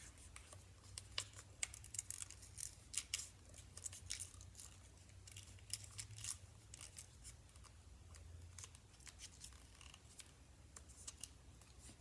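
Scissors snip through paper while a rectangle is cut out for a straw rocket, a run of quick, crisp cuts in irregular bursts, close and fairly quiet.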